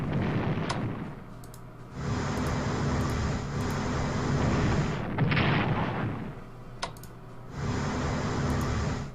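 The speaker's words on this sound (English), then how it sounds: "That means we can bombard the Germans over here." Naval bombardment from cruisers in the WWII strategy game Strategic Command, heard as several loud, sustained rumbling bursts of shelling separated by brief quieter gaps, with no talking.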